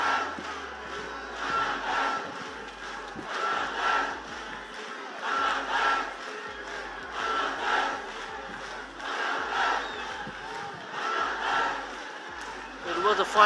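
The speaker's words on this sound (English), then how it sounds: "Now the Bangladesh fans still cheering on." Bangladesh football fans in a stadium at an AFC U20 Championship final against India chant in loud, rhythmic waves, a large crowd roaring in steady repeated bursts, with low drum-like thumps beneath.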